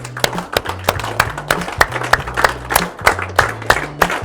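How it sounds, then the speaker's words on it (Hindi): Standing attendees at a Tajurba business meeting clap together in a steady rhythmic cheer, sharp regular claps about every quarter second, loud and close, with a low droning tone running underneath. "तालियां बजाएंगे मेरे साथ।"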